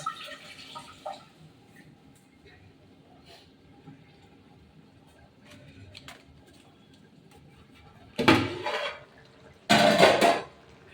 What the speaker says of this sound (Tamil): கருவேப்பிலையை கழுவி எடுத்துக்கலாம்.